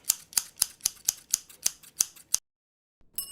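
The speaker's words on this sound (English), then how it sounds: "print off your die line, cut it out, and assemble it" Scissors snipping through a printed paper die line, about ten crisp, evenly spaced cuts close up, then a brief pause before a final rustle.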